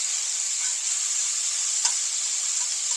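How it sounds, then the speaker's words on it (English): Garlic sizzles steadily in a very hot pan, a constant bright hiss with one soft scrape as it is stirred around. "Now we'll stir that garlic around in there."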